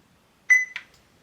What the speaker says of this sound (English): Press until we hear a beep.